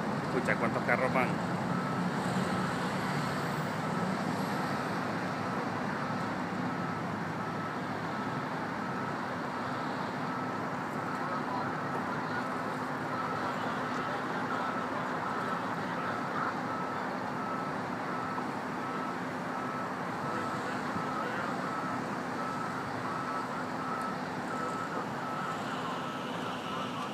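Cars of President Obama's motorcade passing by on a road, a steady broad roar of traffic heard from a distance, continuous and moderate, with people talking over it.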